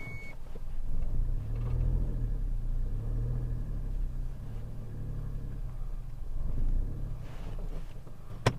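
A car rolls backwards with a low, steady engine rumble from close by, idling and creeping, with a short sharp knock near the end.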